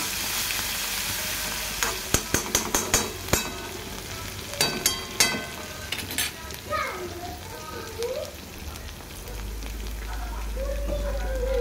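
Crushed garlic and coriander drop into a hot pan and sizzle, a crackling fry with a run of sharp pops early on, settling into a steadier hiss while someone talks over it.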